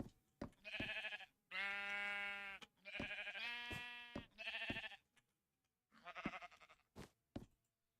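Sheep in Minecraft bleating repeatedly in short wavering calls, several overlapping bleats in quick succession with clicks and knocks between them, clear and close with no talking.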